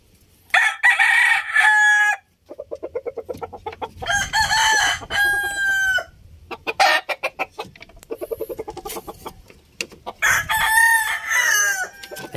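A black-legged Talisay gamecock on a backyard breeding farm crows loudly and close several times, with clucks and short calls in the pauses between the crows.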